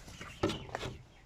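Hens in a henhouse give a couple of quick soft clucks, heard close and low in level.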